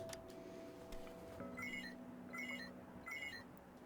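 A signal beeping in the Wuthering Waves video game, three short repeated electronic beep bursts in a steady rhythm over a quiet background hum.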